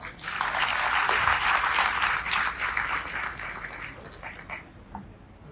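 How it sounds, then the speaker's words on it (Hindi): Honoured children at an award ceremony for meritorious students in Bareilly give a burst of applause. The dense clapping is loud at first and then gradually thins and fades, with a few scattered claps near the end. "मैं चाहती हूँ कि यहाँ उपस्थित सभी सम्मानित होने वाले बच्चे जोरदार ताली अपने लिए बजाएं।"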